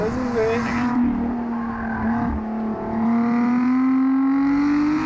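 A Lotus Exige Sport 410's engine rises through the revs with a steady, loud drone that climbs in pitch, heard from inside the moving car with no voices.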